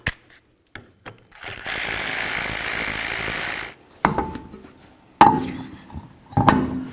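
A ratchet tightens the rear shock absorber bolt on a 2010-2015 Kia Sorento, a fast buzzing run of clicks for about two seconds, followed by a few separate metallic clanks and short clicking bursts nearby.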